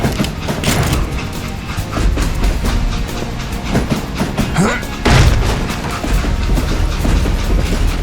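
In the Western video game Call of Juarez: Gunslinger, a railway express car detaches from its train amid loud rumbling wheels, metallic clanks and a heavy jolt, with dense clattering and bursts like gunfire throughout.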